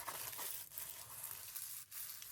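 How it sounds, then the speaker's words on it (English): Tissue paper being handled in a scrappy paper journal, soft close crinkling and rustling that runs continuously at low volume with faint crackly texture. "tissue paper."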